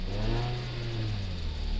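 A Suzuki SX4 car with a high-speed vibration fault accelerates toward 60 or 70, its engine drone steady and slowly rising, heard from inside the cabin over constant road and wind roar.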